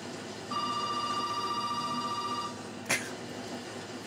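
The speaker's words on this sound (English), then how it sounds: "Pick up the phone, though." A telephone rings in the Resident Evil 7 video game, a steady electronic trill with a bright tone that holds for about two seconds and then stops, followed by a short sharp click.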